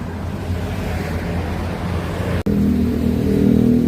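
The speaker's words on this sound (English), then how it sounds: "I'm walking along this entire length of this busy street, and it's loud" Loud, continuous traffic roar on a busy Bangkok street, dense low rumble of passing vehicles heard close by from the sidewalk, with a brief dropout midway and engines swelling again afterward.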